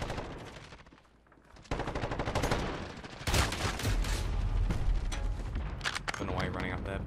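Rapid automatic gunfire bursts and shots from a Call of Duty Modern Warfare Hardpoint online match, loud and dense through most of the clip after a quieter opening, with game effects layered in.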